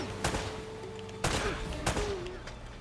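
Three sharp AK rifle bursts ring out in Uncharted: Drake's Fortune, each a loud broadband crack with a brief tail, spaced about a second apart over a steady game ambience with a faint tonal hum.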